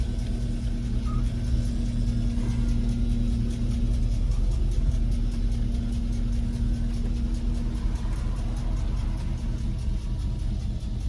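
A 1986 Chevrolet C10 Suburban engine drones steadily while driving, a constant low rumble with a faint steady hum, close and unbroken throughout.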